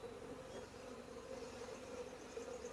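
Honeybees from a nuc box flying around a hive, a faint, steady low buzz of many wings hovering close by, with no voices.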